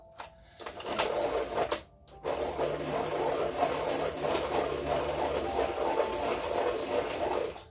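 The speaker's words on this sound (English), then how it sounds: "Oh, gotta sharpen it first." Electric pencil sharpener grinding a colored pencil, a steady close whirring rasp after a couple of brief starts, running continuously at moderate loudness.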